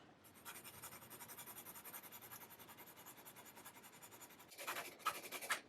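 A pencil scratches across paper in quick rhythmic strokes, soft and close, with a slightly louder flurry of marks at the end and no voices.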